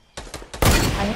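Video game gunfire: three quick sharp shots followed by a dense, loud burst of rapid fire, close and punchy.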